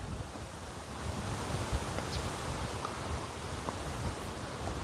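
Steady wind buffets the microphone outdoors at Seabreeze Recreation Center in The Villages, Florida, on an overcast, windy day. It makes a continuous, fairly loud broadband rumble and roar with no voices.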